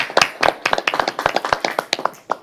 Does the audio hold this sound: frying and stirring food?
no